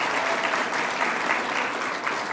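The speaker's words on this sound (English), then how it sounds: "You're allowed to clap." Dense, steady applause from an audience at a 20th anniversary celebration event, sustained hand clapping filling the hall evenly from start to finish with no voices standing out.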